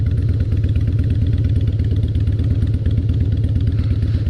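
A 2003 Harley-Davidson Fat Boy motorcycle engine rumbles loud and close in a steady, throbbing idle-like beat that holds unbroken throughout, with no voices over it.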